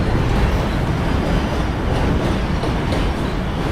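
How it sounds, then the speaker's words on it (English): A New York Z subway train passing during a Brooklyn-to-Manhattan walking commute: a loud, continuous rumble of wheels on rail with faint rhythmic clatter, close and filling the whole stretch without any talk. "There's a Z train coming along."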